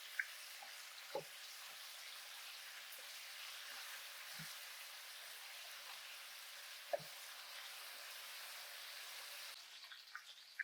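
Chicken pieces coated in egg wash and flour frying in a wok for sesame chicken, a steady soft sizzle throughout with a few faint clicks and taps, no voices.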